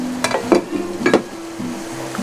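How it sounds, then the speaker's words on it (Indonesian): Boiled rice vermicelli stirred in a hot pan with pepper, salt and mushroom stock, soft scraping stir strokes in a loose rhythm over a low sizzle, close by. "kemudian diaduk-aduk sampai merata"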